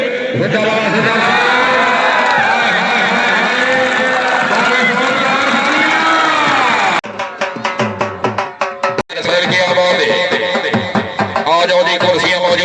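A crowd at a kabaddi match in Daud Khel cheers loudly for several seconds, then breaks into rapid, rhythmic clapping, with voices mixed throughout.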